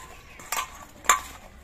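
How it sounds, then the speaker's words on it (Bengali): Mango pieces being mixed with salt and turmeric powder for a sweet-sour-spicy pickle, heard as two short, sharp clinks of a spoon against a bowl over a quiet background. "এবার এই আমের মধ্যে আমি নুন আর হলুদ মাখিয়ে নেব।"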